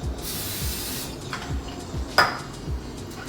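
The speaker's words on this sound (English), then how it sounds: "I'm gonna give it a little spray." A short hiss of cooking spray into a pot near the start, followed by light metallic clinks of the pot, with faint low thumps underneath.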